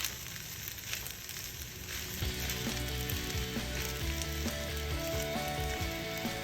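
Vegetable fried rice seasoned with sugar sizzles steadily in a pan as it is stirred, a continuous close frying hiss with faint scraping, no voices.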